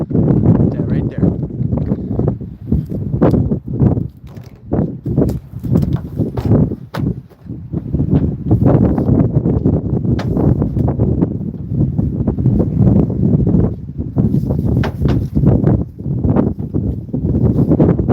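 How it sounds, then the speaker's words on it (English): Wind gusts buffet the microphone outdoors on a trout fishing outing, producing loud, rough, uneven rumbling bursts that come and go throughout. "So it might be a little windy today."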